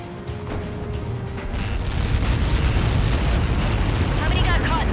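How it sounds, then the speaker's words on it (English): A huge explosion in the combat flight game Ace Combat 7 rolls out as a deep, sustained roaring boom that swells and stays loud, with a faint tone fading early on. "How many got caught in that explosion?"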